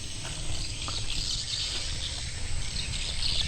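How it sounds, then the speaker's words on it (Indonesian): Recorded swiftlet calls broadcast from a swiftlet house in Segedong, a steady faint chorus of high chirping carried through the air with outdoor ambience. "Ini adalah rekaman suara walet ini untuk"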